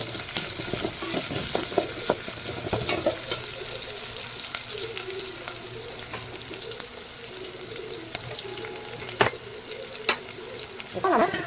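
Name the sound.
onions sautéing and being stirred in a pan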